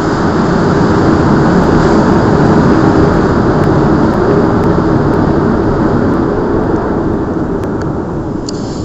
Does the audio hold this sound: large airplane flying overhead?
yes